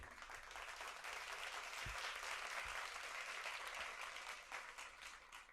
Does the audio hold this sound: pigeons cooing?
no